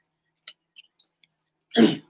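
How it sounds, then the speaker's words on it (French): One short, harsh allergic cough bursts out near the end, preceded by a few faint clicks and small mouth sounds in near silence. "Ça va peut-être calmer cette toux allergique."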